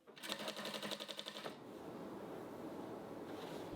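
A sewing machine stitches a line of quilt binding along a quilt edge, a fast rhythmic mechanical chatter for about a second and a half before stopping, leaving a soft steady background hiss.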